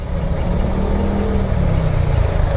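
Motorcycle engine running steadily during a hot daytime ride from Santa Rosa to Alabang, a loud continuous low drone with wind rush, fairly even throughout and with no talk.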